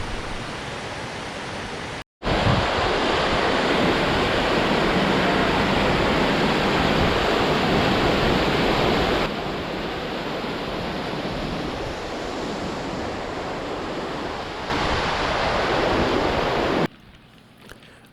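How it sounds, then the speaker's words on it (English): Hayes Creek Falls along Highway 133 in Colorado roars with a dense, steady rush of falling water, close and loud, with a brief break near the start and slight level shifts throughout. "we made a brief stop along Highway 133 at Hayes Creek Falls"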